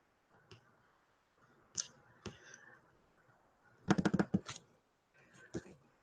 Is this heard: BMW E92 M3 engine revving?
no